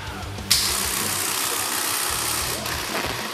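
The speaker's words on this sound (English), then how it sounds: "at this moment we are using external power supply to drive the DC motor." A DC motor, fed from an external power supply through an H-bridge driver, drives an FPGA obstacle-detection robot, giving a steady mechanical hum that holds evenly for the whole stretch after a sharp click near the start.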